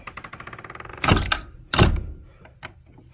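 A wooden feed shack door is swung shut with two heavy thunks about a second apart, followed by a faint rattle; before it, a soft rhythmic clicking is heard, with no talking.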